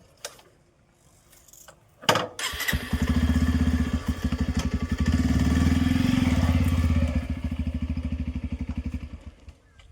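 A motorcycle starts after a couple of clicks and a quick crank, then settles into a loud, steady, rapid idle thumping close by that runs to the end.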